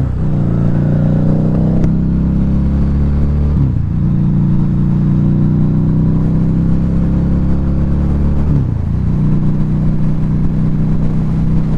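A 2012 Harley-Davidson V-Rod Muscle motorcycle's engine drones steadily while riding, loud and close, with two brief dips where the pitch shifts as gears change, and no voices.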